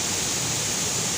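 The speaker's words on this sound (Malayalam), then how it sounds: "പതഞ്ഞു വരുന്ന വെള്ളച്ചാട്ടം" A foaming waterfall in Idukki pours between rocks, a dense, steady rushing roar heard close and alone.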